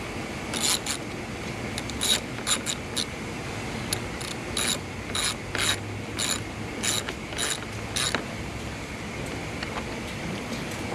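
A ratchet wrench tightening the battery cable terminals on a Kia Forte gives short bursts of quick clicking, spaced through the stretch over a low background hum, close by with no talking.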